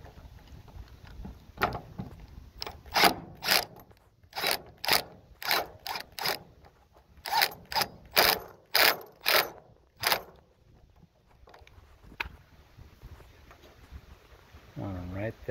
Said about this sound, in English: So I'm gonna tighten them up